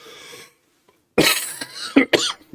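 Several harsh coughs in quick succession, loud and close, following a moment of murmured sound and a short silence.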